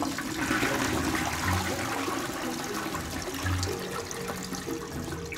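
A toilet flushes with a steady, loud rush of water that roars throughout, with gurgling surges partway through and no talking.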